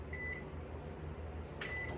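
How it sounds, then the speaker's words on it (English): A microwave oven runs with a stick of butter in a glass measuring cup inside, giving a faint, steady low hum with a few thin tonal whines. "I have a stick of butter in the microwave, y'all, in a glass measuring cup here."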